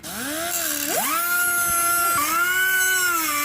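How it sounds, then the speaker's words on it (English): An angle grinder biting into a metal part being fitted to a Jeep Gladiator bumper, a loud, close, continuous whine that dips and rises in pitch as the load changes. "we decided we simply had to do a little bit of grinding to get this to fit"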